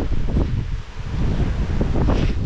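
Strong wind in Iceland buffets a microphone outdoors, a loud, rumbling, gusting roar that surges and dips continuously with no voices.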